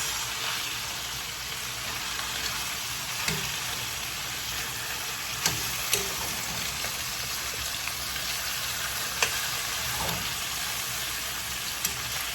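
Chicken pieces sear in a frying pan for a chicken and potato fricassee, giving a steady, dense sizzle like light rain throughout, with a few faint taps and clicks scattered across twelve seconds and no voices.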